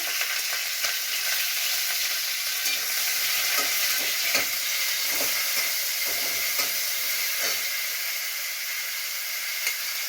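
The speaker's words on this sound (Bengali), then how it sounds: "সেই পেঁয়াজটা দিয়ে দিলাম তেলের মধ্যে" Continuous loud sizzling of onion frying in hot oil, close by, with crackling pops and faint scraping in the pan.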